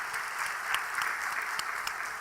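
A church congregation applauds steadily during a Sunday evening service, a dense wash of many hands clapping at an even level throughout.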